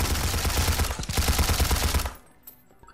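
Fast gunfire from a weapon in the physics-based VR shooter CAEDES VR, a dense rapid burst of loud close shots lasting about two seconds before cutting off to near quiet.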